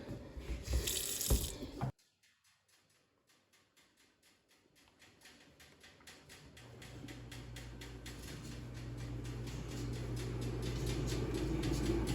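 Hot water runs from a tap into a sink, starting after a brief noisy handling sound and rising steadily into a continuous, nearby rushing stream.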